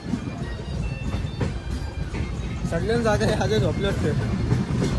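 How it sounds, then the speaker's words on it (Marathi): Steady rumble and rhythmic rattle of a moving train carriage on the way to Goa, with people talking nearby over the noise. "आता बघू शकता ट्रेन चाललो"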